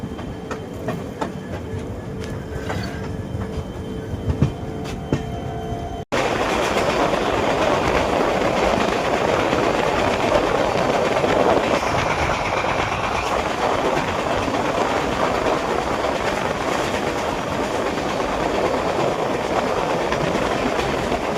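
An Indian express train runs at speed while overtaking the Garib Rath, with a steady loud rumble and clickety-clack of wheels on rails that fills the whole stretch after a quieter, thinner opening.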